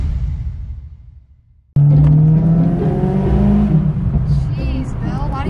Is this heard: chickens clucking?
no